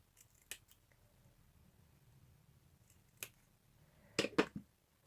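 Scissors cut card in a few sharp, quiet snips spaced across a hushed room, ending with a quick cluster of close crisp cuts.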